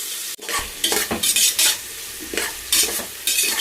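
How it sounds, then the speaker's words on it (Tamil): Onions, tomato and green chillies sauté in a pan with a steady sizzle, broken by repeated scraping stirs at close range; no one speaks. "பெரிய வெங்காயம் 2, சின்ன வெங்காயம் ஒரு 10, தக்காளி ஒரு பெரிய தக்காளி, பச்சை மிளகாய் இதெல்லாம் அதில் போட்டு நல்லா வதங்கட்டும்"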